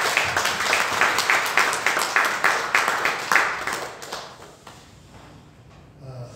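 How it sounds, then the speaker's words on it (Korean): A church congregation claps together in a brisk, steady burst of applause, loud and close, keeping a regular rhythm for a few seconds before fading out. "우리 큰 박수로 감사합니다"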